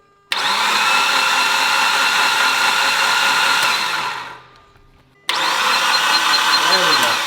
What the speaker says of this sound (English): All right, Bob, crank her.